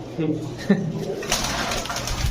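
A Golla pigeon coos softly and briefly up close while someone talks continuously over it.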